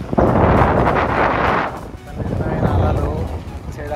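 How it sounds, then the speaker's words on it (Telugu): Strong wind buffeting the microphone outdoors on a cold day on a road trip past hills, a loud continuous rumble that dips briefly and returns. "మొత్తం గాలి వచ్చింది, ఏమొచ్చా గాలి వస్తుంది ఏం చెప్పాలో అర్థం కాదు."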